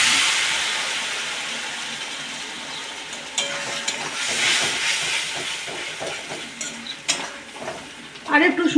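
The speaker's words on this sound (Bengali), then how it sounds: "এবার আমি এর মধ্যে গরম জলটা দিয়ে দিলাম।" Hot water poured into a pan of frying tomato and spice masala, a loud, steady sizzling hiss that roughens and bubbles as it goes, with a few stirring scrapes near the end.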